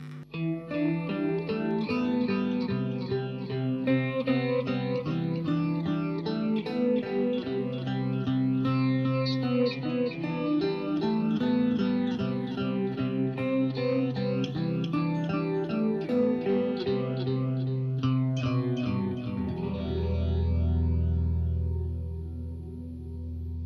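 Electric guitar played through a PH2 phaser pedal with a digital delay, a swirling, sweeping tone with trailing delay repeats, steady and fairly loud with no talking.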